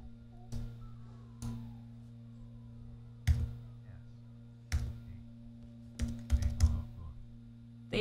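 Keys on a computer keyboard are pressed in a toddler typing app, a few sparse, separate clacks and small bursts of taps over a quiet electrical hum, close to the microphone.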